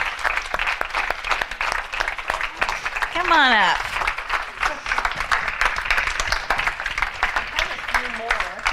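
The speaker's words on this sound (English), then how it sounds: "let's give them a round of applause" A closing-ceremony audience applauds helpers coming up on stage, with dense sustained clapping throughout while a presenter speaks over it and a whistle or rising cheer cuts through midway.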